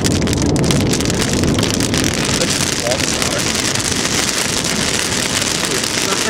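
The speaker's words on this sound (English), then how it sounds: "Not quite Tampa, but Florida Downpour." A heavy Florida downpour pelts hard surfaces, probably a car roof, in a loud, dense, continuous hiss. Faint voices come through underneath.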